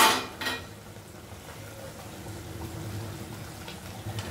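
Pabda fish fry in a pan while being stirred, with a soft steady sizzle and a couple of brief scraping clinks of a utensil at the start, close and moderate in level.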